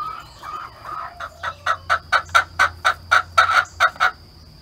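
An old hen in a chicken run gives a rapid, rhythmic series of about a dozen loud squawking clucks that build in strength, close by over a faint low hum.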